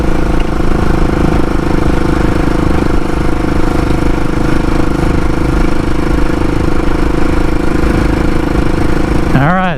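A pieced-together Frankenbike motorcycle engine runs steadily and loudly close by, holding a constant throbbing drone through the gears, with a brief rise in pitch at the very end.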